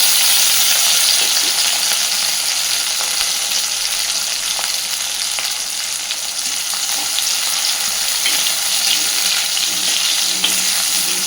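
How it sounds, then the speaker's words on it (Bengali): Chopped onion, tomato and slit green chilies frying together in a pan for aloo dum, a continuous close sizzle and crackle with occasional light stirring clicks, no talk. "পেঁয়াজ টমেটো কাঁচা লঙ্কাটা এবার একটু ভেজে নেব।"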